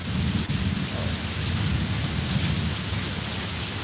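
Steady rain hisses evenly and fairly loudly throughout, with a dense low rumble beneath, like a heavy downpour during a Florida storm.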